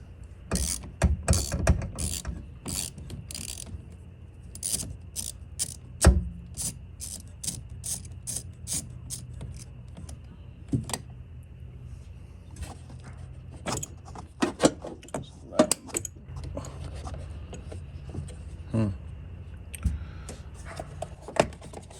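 A ratchet wrench clicks in quick bursts while loosening a 10 mm nut on the negative battery terminal of a 2020 Chevrolet Tahoe, with sharp close metallic ratcheting spread across the clip and pauses between runs, and no speech.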